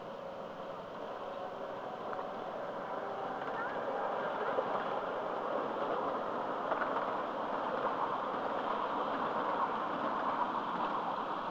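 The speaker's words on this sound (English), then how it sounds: "Drifting down the grade toward the tunnel, Fairbanks Morse," A Fairbanks-Morse Train Master diesel locomotive drifting down a grade toward a tunnel, a low, steady rumble with broadband wind-like noise that builds slightly and holds evenly, heard at a distance outdoors.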